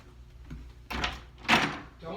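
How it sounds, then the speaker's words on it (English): A door is handled and opened indoors, with a couple of knocking, scraping thuds and a brief latch-like clatter while people talk nearby. "Open the door and open it for me"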